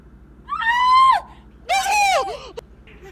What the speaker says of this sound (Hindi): अरे वो चीख रही है, पता नहीं कितना मारा होगा उसने।